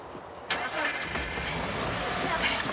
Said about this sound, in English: Please let this car start.